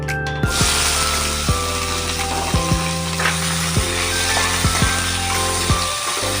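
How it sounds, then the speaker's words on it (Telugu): Cucumber pieces hit hot oil with fried tempering seeds and curry leaves, giving a loud, continuous close-up sizzle with faint stirring clinks and no talking. "తాలింపు వేగిపోయిందండి ఇప్పుడు కీర దోసకాయ ముక్కలు వేసుకోవాలి"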